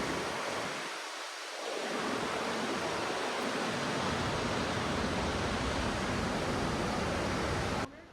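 Churning water of the Niagara River whirlpool and rapids, a steady, dense roar that fills the scene continuously and stays constant throughout, with no voices.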